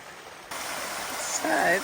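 White thermal water pumped from the ground runs off through an outdoor drain, a close, steady rushing flow that swells louder after a half-second and gurgles toward the end.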